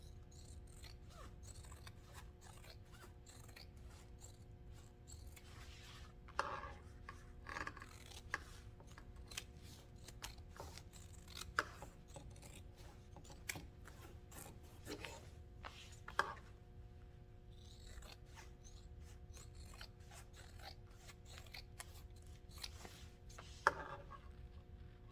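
Scissors trimming foam during tote bag sewing, a faint, close series of irregular snips and rustles against a quiet room hum.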